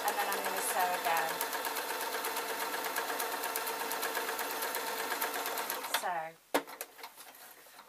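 A sewing machine stitches a simple waistcoat in a steady, fast mechanical whir that runs for about six seconds. It then stops abruptly, leaving a few clicks and handling noises, with a brief spoken word near the start.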